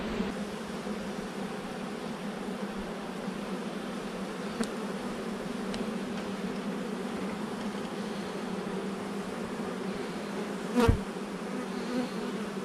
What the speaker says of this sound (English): See how loud of a buzz they got going on?